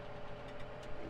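Tractor engine in a farming game, a short stretch of steady idling rumble with a slight knocking texture, close and even.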